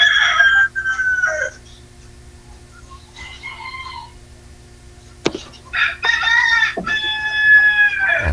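A pet rooster crows loudly and close by at the start and again near the end, with softer clucking and fowl calls in the quiet stretch between.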